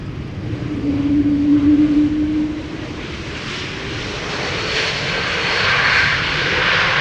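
A two-year-old KLM Embraer E2 touches down after a flight from Dublin, with a broad, steady roar of engine noise as it uses thrust reversers, rising and falling at a distance.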